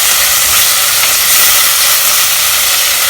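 Chopped medium tomato dropped into a hot pan of translucent onions, giving a loud, steady sizzle and hiss that holds without a break and no voices over it.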